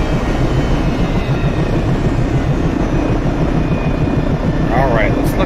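A UH-60L helicopter in DCS World winds down with a dense, steady rotor and turbine roar, loud and continuous, while a voice talks over it.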